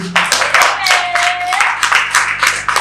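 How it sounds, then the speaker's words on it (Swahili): A church congregation claps their hands together during a service. The claps come loud and close in a quick, fairly rhythmic burst, with a little voice mixed in. "Makofi ya upako."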